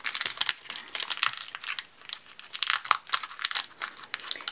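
Crinkly plastic foil of Pokémon card booster packs, Mewtwo and Mew sets, rustles and tears in quick, irregular bursts, close to the mic in a quiet room.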